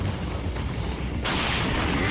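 An incendiary grenade goes off in Resident Evil 4 VR, a sudden broadband whoosh of fire that swells and holds for about a second over a steady low rumble of game noise.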